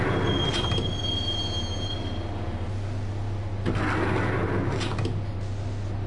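Train wheels squeal and rumble steadily on the rails during a ride toward Roscoe Street Station in the game Max Payne, with a sustained high screech fading and bursts of metallic grinding recurring over a continuous low drone.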